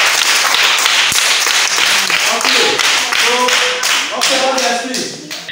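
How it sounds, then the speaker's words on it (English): A group of people in a rural community clap together, loud and close, in a dense steady burst of applause with voices talking and calling out over it. "Can we clap for him? Let's clap for him."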